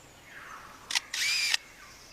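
An Australian lyrebird in the forest mimics a camera with a motor drive, giving a brief mechanical click followed by a longer whirring burst, crisp and close against quiet background.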